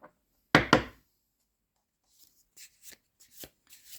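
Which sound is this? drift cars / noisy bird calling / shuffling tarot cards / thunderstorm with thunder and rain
shuffling tarot cards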